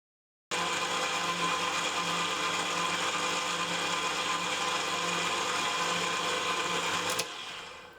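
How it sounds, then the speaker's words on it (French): Dough kneading machine (pétrin) running at low speed for beignet dough, a steady mechanical whir with a low rhythmic hum, continuous and close, then abruptly switching off near the end. "Je mets le pétrin en marche à petite vitesse"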